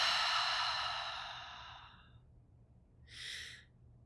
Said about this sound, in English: And blow out the air, blow out your breath.